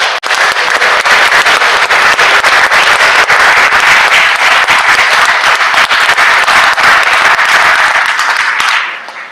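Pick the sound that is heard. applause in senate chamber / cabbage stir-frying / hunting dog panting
applause in senate chamber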